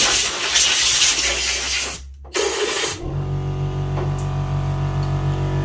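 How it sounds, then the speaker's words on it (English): Compressed air hisses in a loud spray, blowing dust off a Dyson DC24 vacuum, cuts out briefly and resumes for a moment, then gives way to a quieter, steady mechanical hum. "I'm just going to use some compressed air and clean off the"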